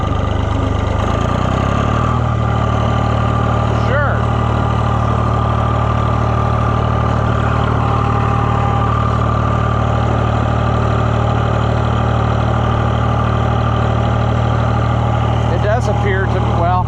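A Cockshutt 1255 FWA tractor's diesel engine runs in fourth gear with a loud, steady, low rumble and a constant droning hum close by. Occasional faint knocks sound over it.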